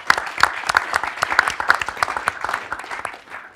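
An audience applauds a team on stage at a hackathon finals event, producing steady, dense clapping that holds at moderate loudness throughout.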